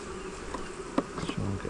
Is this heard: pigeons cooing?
no